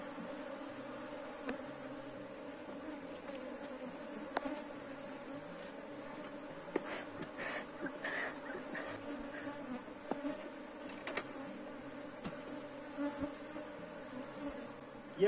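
Honeybee swarm collected into a box, a dense continuous buzzing drone that stays steady throughout, fairly close, with faint handling bumps and no talk.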